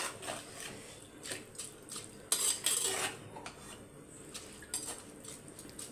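A metal spoon stirs rice and water in a pot for duck biryani, giving repeated scraping clinks and rattles against the pot's sides, close and fairly quiet.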